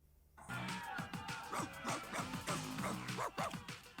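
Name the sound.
dog barking in BoJack Horseman episode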